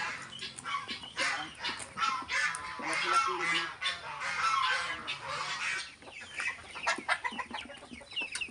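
Newly hatched ducklings being moved into a nursery cheep and peep continuously at close range, a dense chorus of high, overlapping calls that swells and dips throughout.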